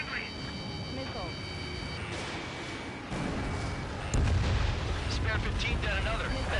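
Ace Combat 7 aerial combat: missile launches and explosions bursting over jet engine noise, including a heavier boom partway through. Voices talk over the action throughout.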